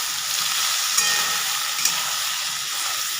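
Soybean chunks frying in a pan, a steady close sizzle and hiss with two faint clicks of stirring.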